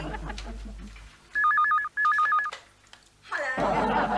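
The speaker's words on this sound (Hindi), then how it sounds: "जरा देखो ना किसका फोन है, प्लीज" A telephone rings in two bursts of warbling electronic trill indoors, close and loud, followed by a person speaking right after; faint talk precedes the rings.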